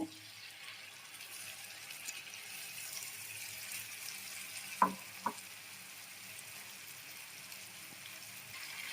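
Pumpkin fries with a ginger, onion, garlic and tomato paste in a pan, giving a soft, steady sizzle with two brief stirring knocks partway through, no voices present.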